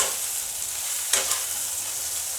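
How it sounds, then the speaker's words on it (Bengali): Small pieces of potato and eggplant fry in oil in a pan, giving a steady close sizzle with two brief louder crackles partway through. "দেখুন বেগুনটা আমার খুব ভালোভাবে ভাজা হয়ে গেছে।"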